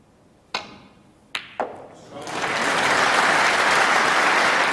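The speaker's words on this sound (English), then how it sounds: "Now, the crowd are applauding" Snooker crowd at a UK Championship final bursts into sustained applause after a few sharp knocks of balls and cue, the clapping swelling and holding steady to the end.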